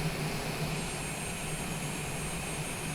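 A Cessna light aircraft on short final approach in a flight simulator game at Buenos Aires airport: a steady, unbroken engine drone at moderate level, with no voices over it.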